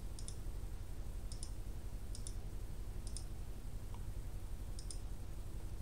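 Calculator buttons pressed in a quiet room, giving about five sharp, faint double clicks at roughly one-second intervals over a low background hum.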